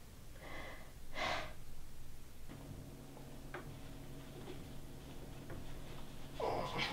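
Deep breaths sound close to the microphone, two near the start and one at the end, with quiet ticking in between.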